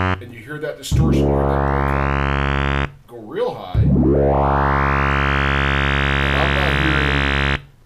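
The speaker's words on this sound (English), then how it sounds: "And you hear that distortion." A Roland JD-XA synthesizer plays a sustained, heavily distorted tone through its filter, rich in buzzing overtones. Two long droning notes, the second sweeping open as the filter rises, with a brief gap between them.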